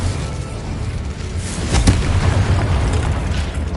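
Confringo blasting spell explosions in the video game Hogwarts Legacy, a dense rumbling boom with a sharper burst near the middle, loud and close over continuous game noise.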